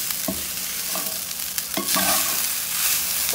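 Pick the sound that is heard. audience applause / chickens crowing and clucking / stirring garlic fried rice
stirring garlic fried rice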